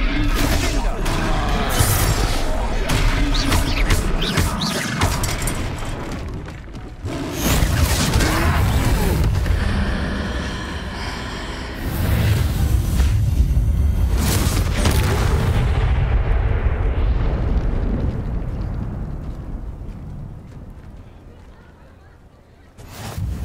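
Fiery Confringo blasts booming during a troll battle in Hogwarts Legacy, loud explosive hits and crashes mixed with music and voices calling out.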